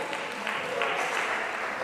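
An audience at a branch meeting breaks into brief, scattered clapping, a short burst of hand claps in a room.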